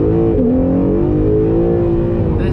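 Acura NSX accelerating hard from 0 to 60 mph, engine note climbing steadily and loud from inside the cabin, with a brief shift dip early on, no talking.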